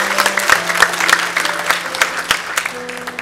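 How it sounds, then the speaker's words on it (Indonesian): A church congregation claps during a sermon, a short burst of fairly loud, fast, slightly uneven hand claps close by, with a low sustained hum underneath. "Tepuk tangan buat kebenaran saudara itu."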